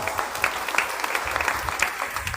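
A church congregation at Mass claps loudly after the Gospel reading, a continuous burst of many hands with crisp individual claps standing out, fairly close and steady.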